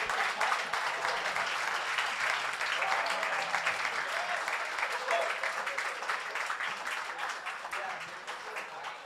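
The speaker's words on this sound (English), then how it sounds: "Give him a nice round of applause" Wedding guests applaud the best man at a reception, a steady, dense round of clapping that holds for about nine seconds and tapers slightly at the end, with some voices mixed in.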